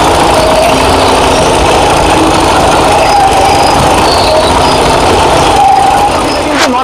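Kubota power tiller engine runs steadily in a field of heavy clay soil, a loud continuous mechanical drone with a gritty rattle, heard alone without talk.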